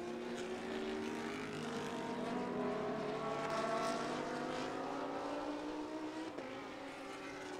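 Lamborghini GT race cars running flat out on a circuit during a GT Asia race, a sustained high engine whine that rises steadily in pitch, heard from a distance with no talk.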